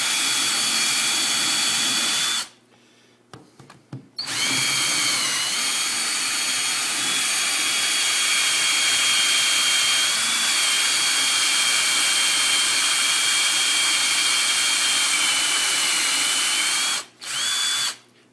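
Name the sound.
drill boring holes in reef rock for frag plugs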